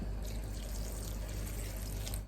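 A cup of water poured into a cooking pot while home canning, a steady continuous splash and trickle lasting about two seconds, close and fairly loud with no talking.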